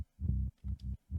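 A deep sub-bass rumble made from an audio sample pulses in a short throbbing pattern, three low swells separated by brief gaps, alone and fairly soft, in a trance remix.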